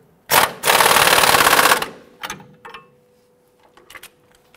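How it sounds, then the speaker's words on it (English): An impact wrench or power tool tightening the lower shock bolt on a 2005-2021 Nissan Frontier gives a short burst and then a sustained rattling run of about a second and a half, followed by a few faint clicks and taps. "I'm going to go ahead and tighten down our lower bolt here"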